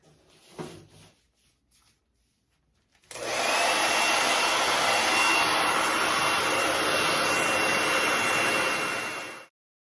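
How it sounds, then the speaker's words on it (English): A hair dryer switches on after a few quiet seconds and blows with a steady, loud, broadband whoosh for about six seconds, drying the finish on a wooden stool, then cuts off abruptly. "I'm going to take my hair dryer now, or a heat gun, and dry this really well"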